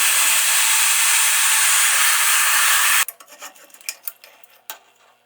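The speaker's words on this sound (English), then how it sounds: "Now we can transition up to the next size using my mag drill press." A magnetic-base drill press cutting metal on a 2002 Honda XR100R job, a steady loud high-pitched grinding whir for about three seconds, then a stop followed by scattered clinks and handling knocks.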